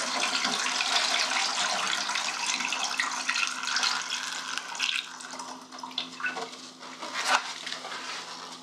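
Liquid photographic developer for kallitype printing poured slowly through a funnel back into its container: a steady, close trickle of pouring liquid running for several seconds, tapering with a few louder splashes near the end, no talking.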